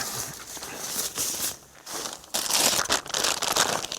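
A plastic bag crinkles and rustles up close, handled in uneven bursts with a brief lull before louder crumpling resumes.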